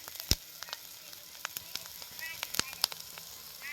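Capsicum sautéing in a pan over a wood-fired village stove, a soft steady sizzle broken by sharp clicks and taps, fairly quiet and heard alone.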